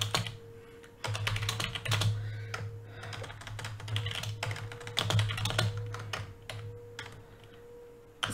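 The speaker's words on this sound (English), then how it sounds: "But forgive the typing," Rapid, steady clatter of typing on a computer keyboard, close and fairly quiet, with a faint low hum underneath and no talk.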